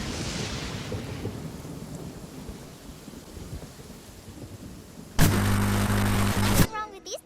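In the video game Genshin Impact, a steady hiss of falling rain carries low rumbles of thunder, then a loud, sharp burst of sound near the end.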